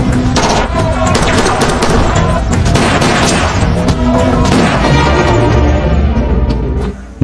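A shootout from the action film WAAR erupts in dense, continuous gunfire, loud rapid shots and heavy booms overlapping with little pause, then cutting off at the end.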